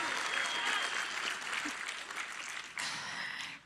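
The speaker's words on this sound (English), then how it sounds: "So, yeah, go on, applaud" An audience at a Gearbox panel at PAX East 2022 applauds in a steady, moderately distant wash of clapping that carries on for a few seconds.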